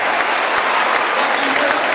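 An audience at a live talk claps and cheers for the women, who are standing. The applause is dense, steady and loud throughout.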